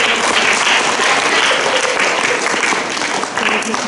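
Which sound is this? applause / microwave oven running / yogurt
applause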